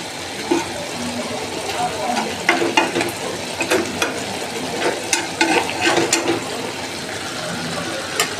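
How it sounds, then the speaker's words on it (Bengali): Puti fish curry with eggplant and tomato being stirred in a pot, a bubbling simmer with scattered scraping and clinking strokes from a utensil, moderately close and fairly loud. "আমি হালকা করে নাড়া দিয়ে দেখাচ্ছি"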